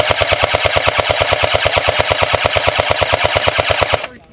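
Rapid automatic gunfire from a video game, a steady burst of many evenly spaced shots at high rate, loud and continuous for about four seconds before cutting off abruptly.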